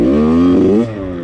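A Yamaha YZ85 two-stroke dirt bike engine revs hard on a track, a loud close buzzing whine that climbs in pitch and then drops off sharply as the throttle closes.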